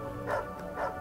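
A dog barks in the video game Ministry of Broadcast, two soft, muffled barks about half a second apart, faint and alone.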